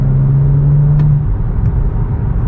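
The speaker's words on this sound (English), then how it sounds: "there is nothing like an inline six cylinder with a manual transmission" A 2016 BMW M235i with an inline six-cylinder engine and a six-speed manual gearbox, a close, loud engine drone holding a steady note that then drops away into a lower rumble.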